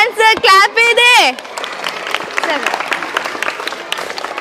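Young school children clapping together in a classroom, a brisk scattered burst of hand claps after an adult voice, continuing close and fairly loud.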